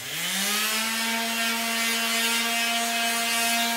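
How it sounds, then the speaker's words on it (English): Power sanding of old paint and fiberglass gel coat, a steady close whirring tone with a pitch that rises briefly at the start, continuous and even throughout. "I'm going to sand off this old paint here."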